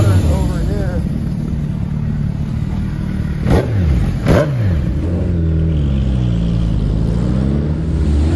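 A Suzuki Hayabusa motorcycle engine revs near at hand, with two quick throttle blips rising and falling over a steady idle, as people talk over it.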